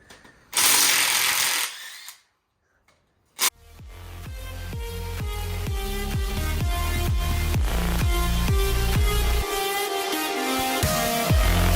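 A ratchet wrench removes the exhaust manifold from a Mazda Miata engine that is coming apart for a head gasket job, clicking in a fast, steady run of loud, close strokes after a brief burst of noise and a pause.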